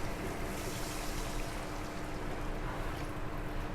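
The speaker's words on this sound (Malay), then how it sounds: "Okey, kita akan masukkan air." Water pours steadily into a cooking pot before the rice goes in for Afghan rice, a loud, continuous rushing flow that holds level the whole time.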